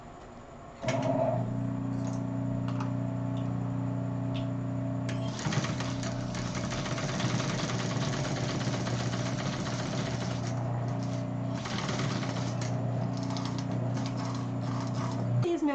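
A sewing machine topstitching, running steadily with a close mechanical hum and rapid needle rhythm, briefly changing pace midway, with someone talking over it.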